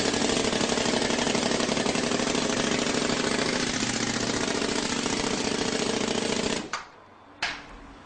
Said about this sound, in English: The jolt squeeze machine pneumatically squeezes down on the squeeze board and up on the bottom board to further compact the sand